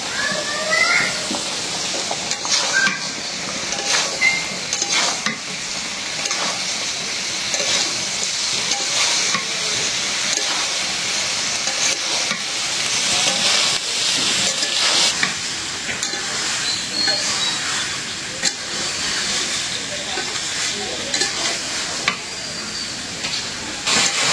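Pre-fried cauliflower is stirred in a hot pan with spices and green chillies, giving a loud continuous sizzle with frequent scraping stir strokes close by and no talk.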